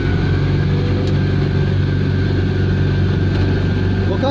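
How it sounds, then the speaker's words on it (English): An Invacar's small engine drones loud and steady at close range while the car strains on a hill start, with a constant mechanical roar that suggests wheel spin or belt slip, with no clear pauses. "I can't tell if it's wheel spin or belt slip"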